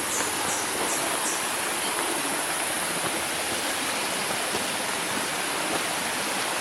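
River water flows and rushes past in a steady, loud, unbroken wash of noise that holds the same level throughout, with no voices heard.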